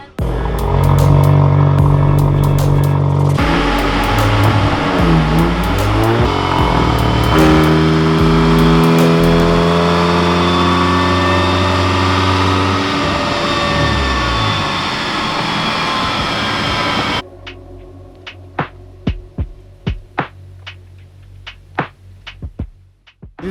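Audi A3 with a 1.4 liter engine running on a dyno: loud, sustained engine roar climbing through rising revs for most of the run, then cutting off abruptly to quieter idle with scattered sharp clicks and ticks.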